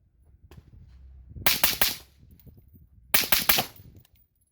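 Two rapid strings of suppressed rifle shots fired through a YHM Turbo T2 suppressor with 55 grain ball ammo, sharp cracking bursts close by, separated by a short pause with faint background noise.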